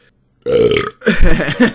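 A man lets out two loud, close, voiced burps in quick succession, the first deep and sustained, the second rougher and more broken, with silence just before.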